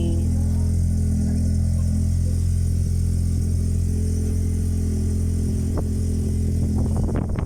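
A Honda Civic FD engine running after starting, a loud, steady low idle close by, ending in a few sharp clicks or knocks.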